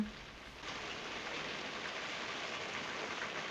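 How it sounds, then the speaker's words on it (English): Steady rain pours down outside in the 1957 courtroom drama 12 Angry Men, a dense, even hiss that holds constant throughout with no voices. "A great detail there, where the rains are coming through."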